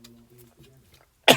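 A single sharp cough bursts out near the end, loud and close, after a stretch of quiet low murmuring while a thank-you card is being assembled with cut-in expression dies.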